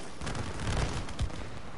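Gunfire in the co-op video game It Takes Two, a dense run of rapid shots and thuds at moderate level with no talking over it.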